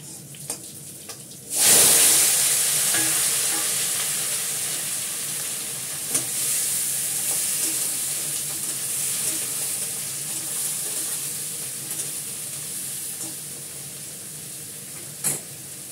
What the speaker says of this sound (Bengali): পটলটা ভাজবো, করলাটা ভাজবো